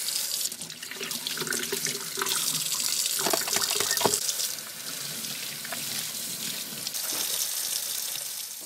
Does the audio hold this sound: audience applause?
no